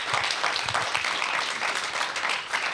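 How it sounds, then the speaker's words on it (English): An audience applauds at a university student government senate meeting at Iowa State. The clapping is dense and steady, a fairly loud room-filling wash that holds for the whole few seconds with no break. "And I want to do another round of applause for Hamath."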